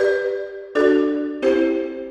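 Three struck marimba notes in slow succession, each with a bright attack and a long, reverberant decay.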